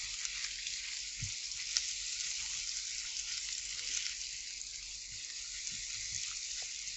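Eggs with cayenne pepper frying in a pan give a steady, moderately loud sizzle with a soft hiss that holds evenly throughout, broken only by a few faint knocks.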